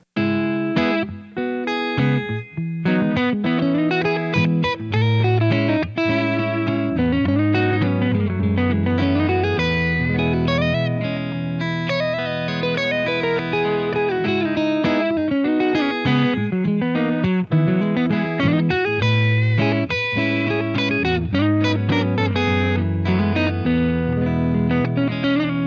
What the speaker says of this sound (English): Now I already have a loop saved on the RC1,